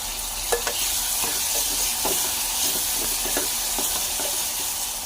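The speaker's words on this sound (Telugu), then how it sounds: "తర్వాత కొంచెం అల్లం వెల్లుల్లిపాయ పేస్ట్ వేసుకొని ఒకసారి కలుపుకోవాలి" Ginger-garlic paste being stirred into fried onions, tomatoes and green chillies in a pan: a steady frying sizzle with repeated scraping strokes of a spoon, close and fairly loud, with no talk.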